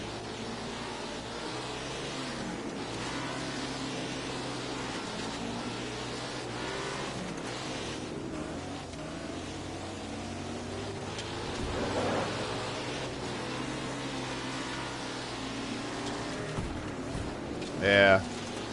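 360 sprint car engines in the World of Outlaws racing video game drone continuously as a steady, rough roar, with a brief louder surge near the end.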